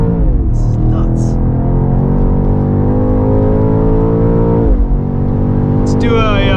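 A 2024 BMW X6 M Competition accelerating hard on a race track, loud in-cabin engine drone rising steadily in pitch through gears, with a brief shift dip near the end and a few short voice sounds over it.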